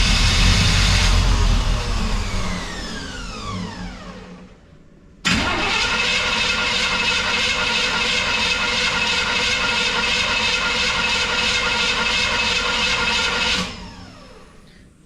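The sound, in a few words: car engine cranking with key turned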